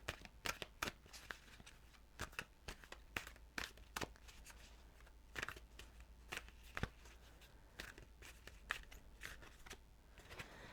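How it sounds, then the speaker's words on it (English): Tarot cards are shuffled and drawn by hand in a string of crisp riffling flicks and soft papery slaps, quiet and close, with no voice over them. "So I'm just going to get another card now for the month of May."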